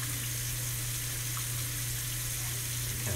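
Tap water running steadily into a glass or measuring cup in a home kitchen during turkey brining prep, a continuous even hiss close by with no talk.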